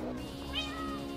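Cats in a snowy village in Minecraft give a short, clear meow, one brief call heard alone at low volume.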